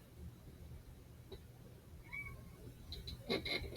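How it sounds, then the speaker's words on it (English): A quiet cat meows a couple of times, a faint short call midway and a louder meow near the end, over low background hum. "you're meowing at me and running from me."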